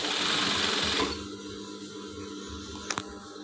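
A sewing machine stitches a test seam after its thread tension is tightened, running loud and fast for about a second, then quieter with a couple of sharp clicks near the end.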